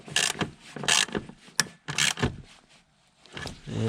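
A 10mm bolt is tightened into the rear seat mount of a 2003–2007 Honda Accord, giving several close, loud bursts of ratcheting and mechanical clicking with short pauses between them.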